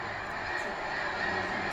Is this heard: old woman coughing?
no